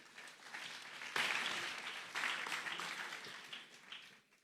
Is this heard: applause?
yes